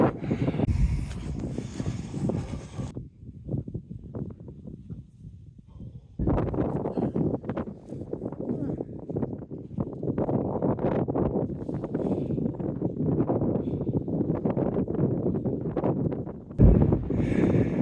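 Gusty wind on a hilltop roars and buffets the microphone, dropping briefly to a quieter lull before surging back strongly and continuing.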